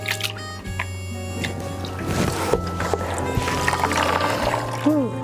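Raw shrimp being rinsed and swished by hand in a bowl of water, giving soft sloshing and squishy splashes over a steady background hum, fairly close.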